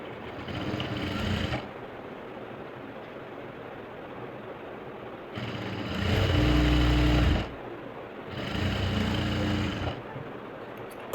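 A sewing machine stitches a blouse with fine stitches. It runs in three bursts of rapid mechanical whirring, with pauses of soft room noise between them, and the middle run is the loudest and deepest.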